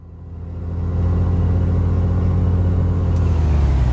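A Beechcraft B60 Duke piston aircraft engine in Microsoft Flight Simulator swells up and settles into a steady, throbbing roar with a deep low rumble, continuous and close.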